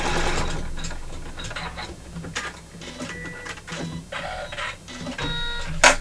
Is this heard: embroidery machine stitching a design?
yes